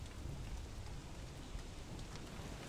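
Steady rain falls in the video game Don't Starve Shipwrecked during winter, an even, continuous hiss of drops with a low rumble underneath and no voices.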